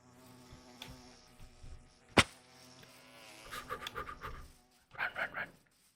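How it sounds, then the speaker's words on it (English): An angry swarm of bees buzzes in a video game after a honeycomb is broken, with droning insect tones rising in bursts alongside a sharp click and breathy panting. "I seem to have angered some bees, and they're now chasing me."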